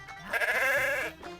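Goats on a livestock farm in Union Bridge, Maryland, give one loud, wavering bleat that fills most of the moment, close to the listener, with quieter farmyard background before and after.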